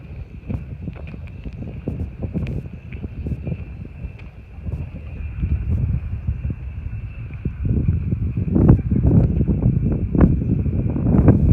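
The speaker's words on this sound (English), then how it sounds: "It's a bit windy today." Steady gusty wind blows at Marree, at the start of the Oodnadatta Track. It buffets the microphone with low rumbling roars that swell and ease, stronger toward the end, with faint rustling under it and no talk.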